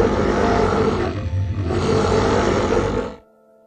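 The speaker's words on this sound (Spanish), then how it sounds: "se escuchó un fuerte rugido que hizo retumbar el lugar." A loud, deep roar rumbles and echoes in a cave, one long bellow, a brief dip, then a second surge before it cuts off into silence.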